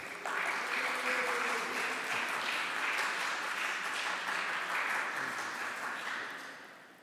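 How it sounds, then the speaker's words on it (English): Audience applause following the introduction of a lecturer at a comics talk, a steady, fairly loud wash of many hands clapping together that holds evenly for several seconds before tapering off at the end. "Thank you for the applause."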